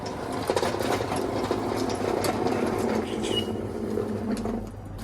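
A small lawn mower engine, running steadily after starting on one pull, gives a continuous rattling drone at moderate distance with no voices.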